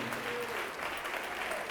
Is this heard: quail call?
no